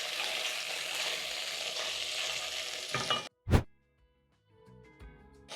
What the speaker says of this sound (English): Once all the water is fully evaporated, the liver is going to start searing